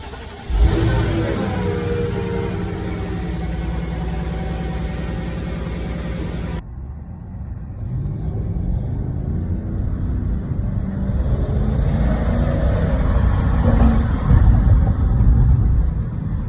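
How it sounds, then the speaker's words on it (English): A high-mileage Mercedes-Benz E500 V8 runs with its exhaust resonators removed, giving a deep, steady burble at close range; the engine drops out briefly, then returns with a rising rev, and a voice talks over part of it. "it has a nice V8 tone to it."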